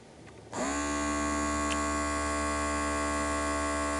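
Small motor of a Microlife BP A100 Plus blood pressure monitor, under repair, starts abruptly and runs with a steady, close electric hum for several seconds.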